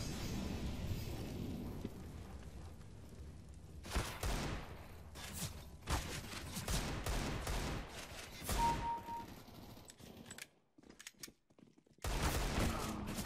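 Gunfire in the video game CS:GO, bursts of rapid shots and clattering weapon sounds across the clip, loud and broken by short gaps, heard alone without talk.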